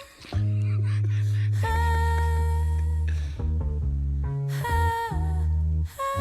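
Song playing loud and full, with sustained harmonic instrumental and vocal-like melodic lines and a brief dip near the end, no talking.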